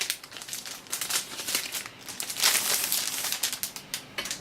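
Plastic packaging from a keyboard crinkles and rustles close by, in irregular crackling bursts that peak halfway through, with no speech.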